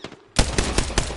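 Rapid automatic gunfire in the Apex video game bursts in after a quiet moment, a loud close string of shots at an even fast rhythm with no talk over it.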